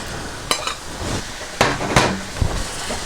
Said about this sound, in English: So we pop a bit more oil in the pan, let that warm up, and then we'll add the beef.